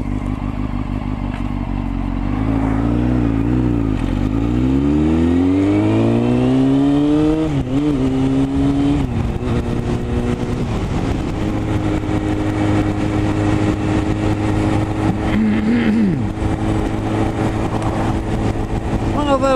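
A Honda CBR600F3 motorcycle engine runs close by, revving up and down with rising and falling whine, then settling into a steady loud drone with occasional small throttle blips; a voice talks over it at times.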